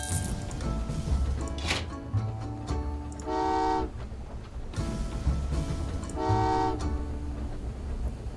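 Train horns sounding in the railway game Train Valley 2, two loud sustained toots a few seconds apart over a low rumbling rail backdrop, with short whistle-like bursts between them.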